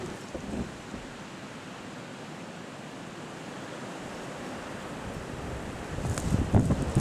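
Blizzard wind blows at a front door. A soft, steady rushing roar swells louder and rougher toward the end, with low rumbling gusts.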